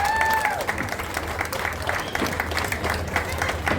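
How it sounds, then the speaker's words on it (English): An audience claps steadily at a prize-giving ceremony, a dense, even wash of applause from a crowd indoors, with a brief tone fading out at the start. "Please give a round of applause for Mr. Krishna."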